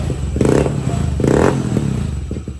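A rebuilt motorcycle engine fitted with a JBT exhaust pipe revs in two loud bursts during a test run, close up, with clattery mechanical noise between throttle blips.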